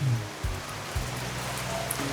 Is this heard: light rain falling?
yes